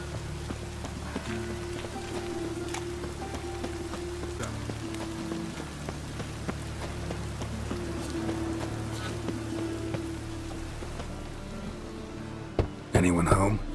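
Rain falls steadily in The Witcher III, a soft continuous patter under a low ambient drone, with a sharper burst of noise near the end.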